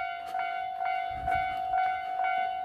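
A JR Ou Line level crossing bell at Iida crossing on the main line rings in a steady, repeating pulse. It is loud and close, with a bright metallic tone and no voices.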